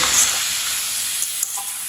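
Watermelon rind murabba cooks over low heat while it is being stirred, giving a continuous bright sizzling hiss close by, with faint stirring scrapes and no talk.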